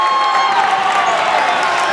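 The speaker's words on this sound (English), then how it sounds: "Crowd's going crazy." A high school basketball crowd roars and cheers loudly and continuously after a one-handed slam dunk in a gym, dense whooping and shouting throughout.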